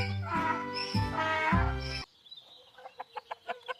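A short run of soft, rhythmic chicken clucks follows after an opening musical voice passage, the bird sounding close and moderately quiet at a zoo.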